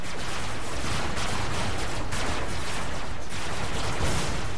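Dense, continuous gunfire hammering against armour in the Robocraft video game, a loud unbroken barrage of rapid shots with no talking.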